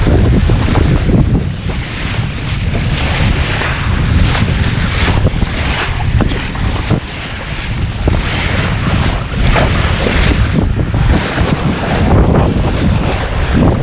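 Strong wind at sea while sailing off South Australia, a steady loud roar of gusts buffeting the microphone over rushing waves and hull noise, continuous throughout with no talk.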